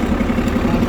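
A small tractor's engine runs steadily at low revs, making a close, even mechanical drone that lasts under a second.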